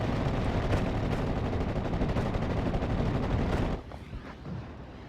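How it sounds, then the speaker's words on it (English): A Panzerwerfer rocket barrage in the Steel Division 44 war game roars as a dense, continuous rumble of rapid blasts for nearly four seconds, then cuts off, leaving fainter scattered battlefield noise. "You got a Panzerwerfer barrage coming forward."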